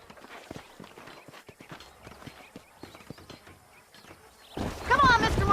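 Horse hooves clip-clop in the Western video game Red Dead Redemption. There is a steady, uneven rhythm of close hoofbeats on hard ground, and a sudden louder wash of sound covers them near the end.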